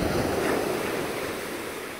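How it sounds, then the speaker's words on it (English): Ocean waves break and wash on the shore in a continuous broad roar, loud and close with some wind buffeting the microphone, and no voices. "The pulsating rhythm of these waves coincides with the pulsating rhythm of your own heart."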